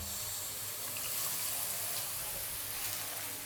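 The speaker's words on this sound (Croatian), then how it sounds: "dodat ću samo malo vode" Water splashes into a cooking pot with courgettes and potatoes, a steady close pouring rush lasting several seconds at moderate volume, with no voices over it.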